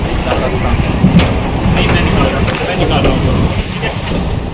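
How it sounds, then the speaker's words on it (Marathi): A train runs loudly on rails, a continuous rumbling clatter with rhythmic clicks, and voices faintly mixed in. "ट्रेनचा प्रवास"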